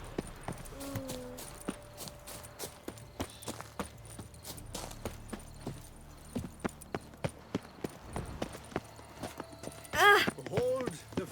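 Horse hooves clip-clop at a steady riding gait in The Witcher 3, the beats sharp and fairly close. Brief speech comes in near the start and again near the end.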